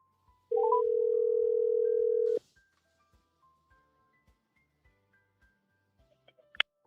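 A telephone tone sounds as a number is called to a weather office, a single steady beep lasting about two seconds, followed by faint regular clicks and a brief sharp blip near the end.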